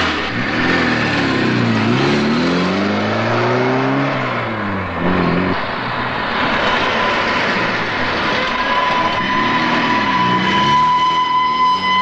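A car engine starts, runs and revs up, rising and falling in pitch as the car pulls away and accelerates, loud and close.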